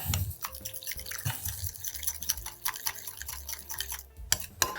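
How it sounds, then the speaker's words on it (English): A utensil mixes a sauce of sriracha, rice vinegar and sesame oil for a poke bowl, with quick wet clicks and taps against a bowl close by and a couple of sharper knocks near the end. "we're gonna add a little bit of sriracha, a dash of this rice vinegar that we saw before, and a little sesame oil. We're gonna mix this up."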